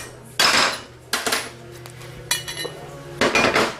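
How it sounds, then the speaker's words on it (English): Four sharp metallic taps from a small hammer striking a punch against a Honda transmission part, spaced irregularly about a second apart, each ringing briefly over a faint steady hum. "I'm going to use a little punch"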